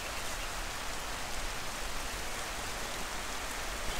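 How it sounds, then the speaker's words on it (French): Steady rain falls around a sheltered hiking spot, a dense even hiss of drops on surfaces with no pauses, close and constant. "il se met à pleuvoir"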